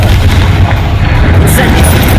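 A Confringo fire spell blasts in Hogwarts Legacy, a loud, continuous booming roar with deep rumbling low end and crackling bursts, dense and sustained throughout amid other combat spell noise.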